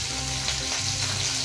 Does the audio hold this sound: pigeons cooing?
no